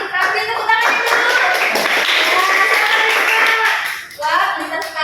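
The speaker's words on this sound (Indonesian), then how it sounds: "Tepuk tangan dulu." Classroom applause for a student: a burst of many hands clapping, loud and close, running steadily for about four seconds before a short pause and a fresh round.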